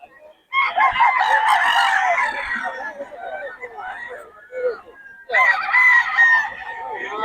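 Roosters crowing loudly and close on a Pangasinan poultry farm, two long crows separated by softer clucking and chatter, with a voice talking alongside.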